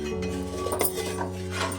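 A spoon scrapes and clinks against a new pot as thickening milk is stirred for palakova, with a few light metallic taps over a steady low hum of the stove.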